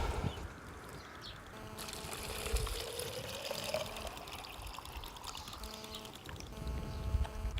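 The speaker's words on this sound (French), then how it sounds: "on va mettre de l'eau" Water is poured into a bottle of soil, a soft, quiet gurgling pour with a rising tone as the bottle fills, trickling on for several seconds.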